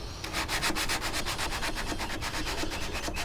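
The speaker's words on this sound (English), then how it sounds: "I've got the rest of the cabinet sanded reasonably well. We'll give it a once over with probably 600 grit." Steady back-and-forth rasp of fine 600-grit sandpaper worked over the wooden cabinet of a 1945 Columbus Model 90 radio, close and continuous with rhythmic strokes and no voices.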